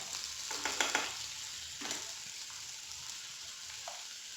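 Chopped onion frying in a pan, a steady hiss with a few louder crackles and stirring scrapes near the start.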